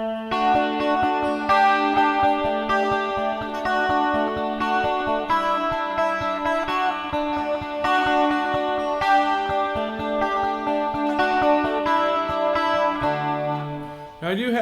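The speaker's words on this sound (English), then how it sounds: "Now I like stacking this up with the chorus and the reverb," Shimmering 12-string guitar chords run through vibe, chorus and reverb effects, ringing full and steady with a swirling, washed-out tone, strummed continuously before a short slide at the close.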